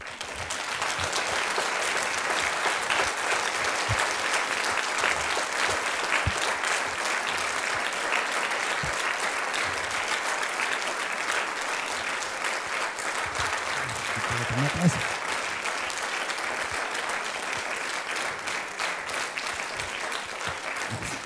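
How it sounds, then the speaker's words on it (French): A cinema audience at a screening of the film "Suspendus" in Briare applauds steadily and at length, dense continuous clapping from many hands filling the room at an even level throughout. "Je me suis permis d'enregistrer vos applaudissements"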